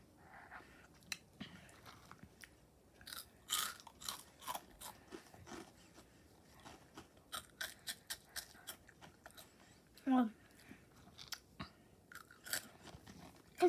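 Crunchy hot Cheetos chewed close to the mic, with irregular, sharp crunching bites in quick bursts and short pauses between them, and no talking.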